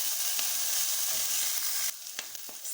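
Green pepper and coriander stems hit hot oil in a pot, giving loud, dense sizzling and crackling that eases slightly partway through. Soft stirring scrapes come through near the end.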